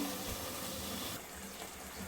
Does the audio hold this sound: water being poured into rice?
yes